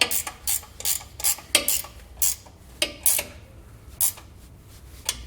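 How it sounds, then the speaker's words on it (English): A 14 mm or 9/16 inch wrench tightening air spring bag bracket bolts on a 2019 Ram until the crush washers collapse, giving sharp metallic ratcheting clicks in irregular bursts, close and fairly loud, with no talking. "we'll take a 14 or 9/16 inch wrench. We'll tighten those both down."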